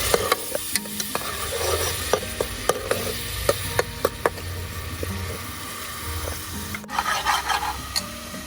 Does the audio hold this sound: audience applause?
no